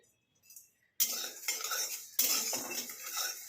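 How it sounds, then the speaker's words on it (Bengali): Fennel and cumin seeds dry-roast in a wok while a utensil stirs them, bringing two bursts of close metallic scraping and rattling of seeds against the pan after a brief quiet start. "খুব পুড়িয়ে ভাজা যাবে না, শুধু 2-3 মিনিট কড়াই নেড়ে নিতে হবে।"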